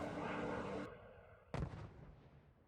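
Video game gunfire in Resident Evil Requiem, set in the ruins of Raccoon City: a sustained blast that suddenly cuts off, then a single sharp report that trails away, moderately loud with no talking.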